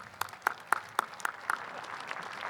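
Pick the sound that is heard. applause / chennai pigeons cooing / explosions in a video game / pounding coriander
applause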